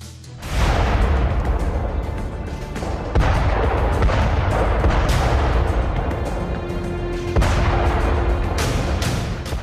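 Heavy, continuous booming blasts with rumbling roar, several sharp new explosions breaking in over the din, loud and sustained.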